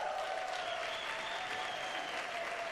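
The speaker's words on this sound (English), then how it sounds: "I think you deserve a round of applause for the way you carry yourself in this business, Dwight." Faint, steady applause from an audience after a film screening and interview, a soft even wash of clapping heard from a distance.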